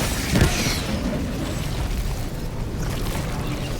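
A deep boom bursts out near the start of an explosion in Helldivers 2, then a rough, roaring rumble lingers steadily, like a blast echoing through a game battlefield.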